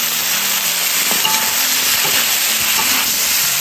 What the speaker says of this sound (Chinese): 糖色炒好，肉倒回来，均匀的翻炒放色